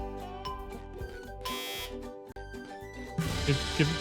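Looping electronic countdown timer music from SpongeBob SquarePants: Battle for Bikini Bottom – Rehydrated, a bright repeating beeping melody that runs steadily, with a burst of in-game effects near the end.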